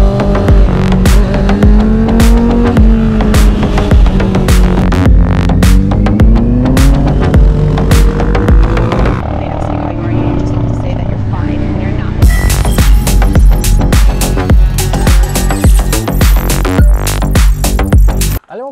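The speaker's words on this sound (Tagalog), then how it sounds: "Honda CBR 650R na naka Michelin Road 6." A Honda CBR 650R on Michelin Road 6 street tires rides Tarlac Circuit during a track day, its engine loud and close with rising and falling revs and a constant buffeting wind roar, speech heard over it.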